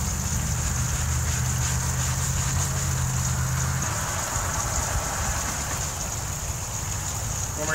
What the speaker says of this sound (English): so got my hose. I'll go ahead and give it a rinse.